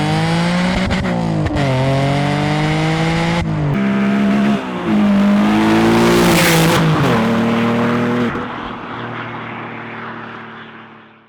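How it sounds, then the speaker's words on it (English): Busso V6 engine of an Alfa Romeo 147 GTA driving under load, revving hard through several gear changes with rising harmonic pitch, then easing off into a quieter lift-off burble near the end; loud and close, no talk. "the sound and feel of a Busso V6 is addictive"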